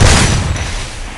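Video game gunfire bursts out loud and close, a dense, continuous volley of shots and booms that fills the whole moment with no speech over it.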